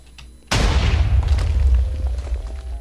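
A naval gun fires in a warship combat video game, one sudden loud boom followed by a rumbling explosion tail that lingers and slowly fades, with no talk.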